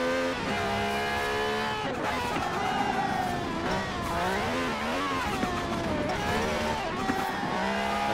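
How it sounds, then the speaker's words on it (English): During a Forza Horizon 4 drive at speed, an upgraded S2-class barn-find car's engine roars steadily with a high whistling tone riding over the note as revs rise and dip, loud and close. "it starts whistling a loud whistle sound, which gets annoying after a while"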